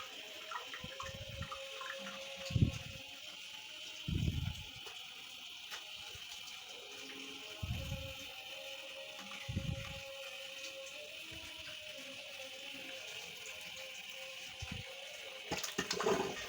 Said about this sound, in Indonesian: biarkan air mengisi ke tabung heater ini